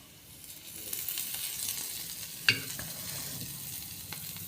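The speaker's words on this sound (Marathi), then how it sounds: "कांदा भाजून घेते." Onion roasting in a pan while a home cook prepares a Marathi green chilli fish curry, faint steady sizzle with soft stirring scrapes and one sharp utensil clink near the middle.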